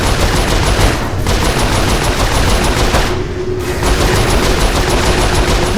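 Sustained rapid turret gunfire in Saints Row IV, loud and continuous with a brief lull, a dense automatic rattle with no talk.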